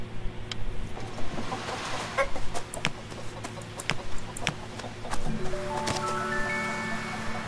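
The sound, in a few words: chickens clucking in video game Gerda: A Flame in Winter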